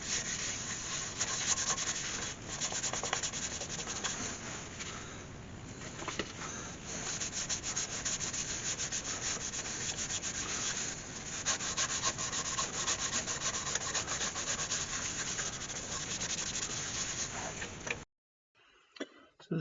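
Sandpaper rubbing steadily against an ash lid spinning on a wood lathe, a continuous close, even scratchy hiss that stops abruptly near the end.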